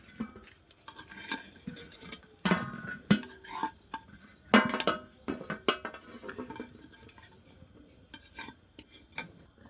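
Cooked pitha rice cakes being lifted out of a pan: a metal utensil scrapes and clinks against the pan in irregular bursts, fairly faint and close, with no talking.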